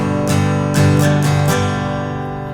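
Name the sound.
guitar strum pattern for a song verse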